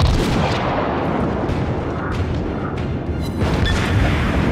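Anti-aircraft guns firing in a battle video game, a dense continuous roar of rumbling booms and blasts that stays loud and close the whole time.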